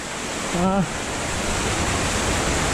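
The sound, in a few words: river flowing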